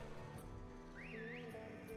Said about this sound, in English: if you hear the whistling, that's Voruna